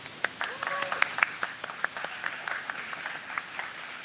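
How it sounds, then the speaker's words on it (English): Light, scattered clapping from an audience at a school science fair prize giving, with a sparse, uneven rhythm of individual claps and faint background murmur. "Good applause."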